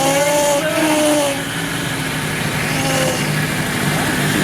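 A Nissan GT-R engine runs steadily after a new gas filter is fitted, a loud, continuous mid-pitched drone with a slight rise and fall in revs, heard close up with no talking.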